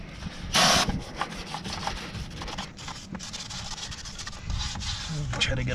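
A stiff brush scrubs brake parts during a 1999-2004 Super Duty brake upgrade, giving close scratchy rubbing strokes in uneven bursts, one sharp loud scrape near the start, with talk faintly underneath.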